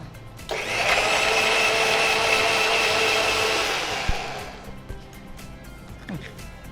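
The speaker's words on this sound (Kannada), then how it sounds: "ಮತ್ತೆ ಇದು ಸಾಸಿವೆ ಮತ್ತೆ ಹಾಕೋದು, ಸ್ವಲ್ಪ ಗ್ರೈಂಡ್ ಆಗಬೇಕು" Kitchen mixer grinder whirring steadily as it grinds raw mustard seeds into a coarse paste for a pumpkin mustard dish, loud and continuous for about four seconds before cutting off, followed by quiet kitchen clatter.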